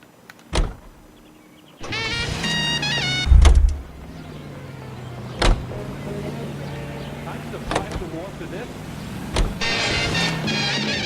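A car in the L.A. Noire video game starts up and idles with a steady low engine hum, broken by several sharp door and mechanical clunks, with a whining mechanical tone near the start and end.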